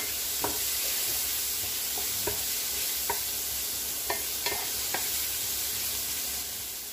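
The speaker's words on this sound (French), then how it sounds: "Donc je vais faire revenir mes oignons." Onions sautéing in olive oil in a pan for fideuà, a continuous close sizzle broken by scattered sharp taps and stirring clicks, with no talk.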